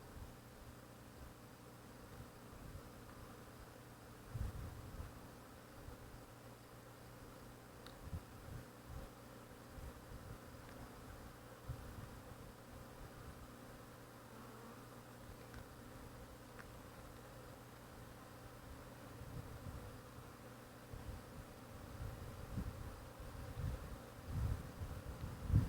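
Honeybees buzz around an opened queenless hive, a faint, continuous drone with individual bees passing near now and then.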